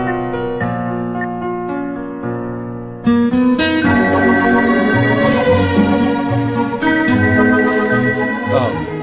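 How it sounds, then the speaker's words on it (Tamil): A mobile phone ringtone plays as a melodic tune, quiet and sparse at first, then swelling into a fuller, louder jingle of bright tones that carries on steadily without talk. "ஜஸ்ட் மோமெண்ட் சார், ஃபோன் வந்திருக்கு."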